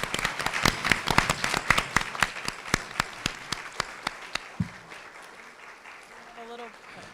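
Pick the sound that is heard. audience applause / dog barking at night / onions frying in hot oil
audience applause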